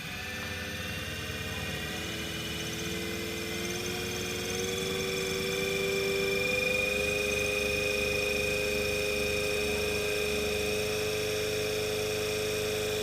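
A synchronous generator in a lab spins up toward 1500 rpm, producing a steady electrical hum whose tones rise and then hold, alone and fairly loud, with no speech.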